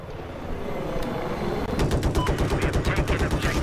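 An attack helicopter in the video game Battlefield 4 fires bursts of rapid gunfire over a steady rotor drone, the shots turning into a fast rhythmic stutter in the second half.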